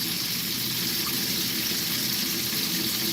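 Tap water streams steadily from a faucet, a continuous broadband rush that stays close and even throughout with no talk over it.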